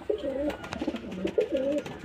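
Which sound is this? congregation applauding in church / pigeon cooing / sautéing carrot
pigeon cooing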